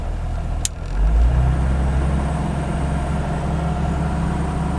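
Jeep XJ engine idling steadily, then rising to a higher, fuller hum as the hand throttle is clicked up, a constant close, loud rumble.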